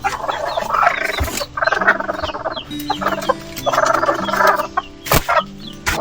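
Hens, including a black hen, clucking nearby on a small farm in repeated bursts, several birds calling over one another, loud and close with short pauses between.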